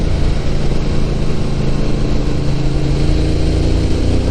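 A motorcycle engine runs steadily on the Hakone Turnpike in Japan at around 4,000 RPM, a continuous loud drone mixed with wind rush and no pauses.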